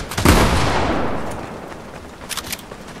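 Gunfire in the video game Fortnite, a loud blast followed by a long fading echo, then a couple of fainter shots near the end.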